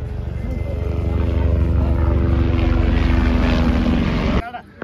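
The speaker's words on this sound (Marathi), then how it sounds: "हेलिकॉप्टर जाणार आहेत हे." A loud, steady rotor and engine roar from a nearby helicopter on the Amarnath pilgrimage route fills the clip, then cuts off abruptly near the end.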